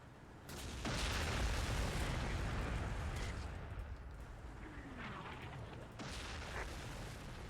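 Gunfire and explosions in the war game Close Combat: The Bloody First, a dense rumbling barrage of booms and bursts with sharp reports, continuous and moderately loud.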